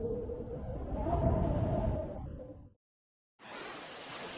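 Gusting wind roars as a broad, whooshing rush that swells, cuts off to a brief silence, then resumes as a steady blow.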